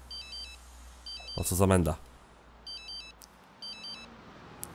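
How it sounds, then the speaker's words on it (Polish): Phone ringing in The Sims 3 video game: repeated short electronic ringtone bursts with pauses between them, alongside a brief louder sound and a short spoken line. "Stary, telefon dzwoni."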